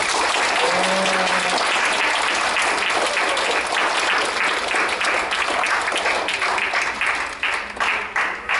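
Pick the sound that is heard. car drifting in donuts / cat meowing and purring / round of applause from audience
round of applause from audience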